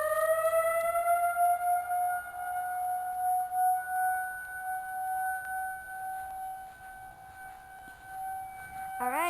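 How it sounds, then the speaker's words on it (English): An outdoor civil defense tornado siren sounds during a test in Indianapolis, a long steady wail rising then holding, moderately distant and undulating in loudness, dropping off abruptly at the end. "Yes, I've been waiting to get a video of the siren testing."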